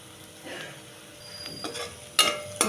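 Onions fried with black pepper, garam masala and coriander powder for veg Manchurian give a quiet, steady sizzle in a pan, with a few soft stirring scrapes and two sharper clatters near the end.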